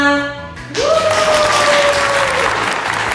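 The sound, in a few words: audience applause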